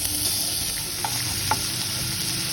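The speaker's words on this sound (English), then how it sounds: "Now I've added some more refined oil. First of all, I'll add the chopped garlic." Chopped garlic fries in refined oil in a pan, a steady close sizzle with a couple of soft stirring clicks, no voices.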